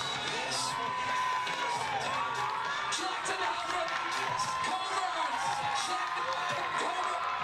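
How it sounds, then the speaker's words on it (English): A stadium crowd roars and cheers as runners come down the final straightaway of a women's 1500m race, a dense, loud, sustained wall of shouting and whooping with no letup. "Listen to this crowd, bring them in, and just look at these fans helping them out."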